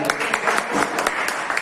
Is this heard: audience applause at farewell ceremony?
yes